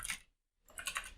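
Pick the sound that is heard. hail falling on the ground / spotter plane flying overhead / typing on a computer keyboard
typing on a computer keyboard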